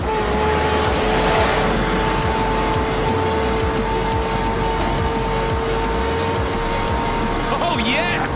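Race cars accelerating together at the start of a Forza Horizon 4 race, a loud continuous engine roar with a steady drone throughout, while a voice talks over it.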